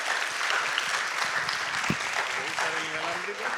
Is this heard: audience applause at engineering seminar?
yes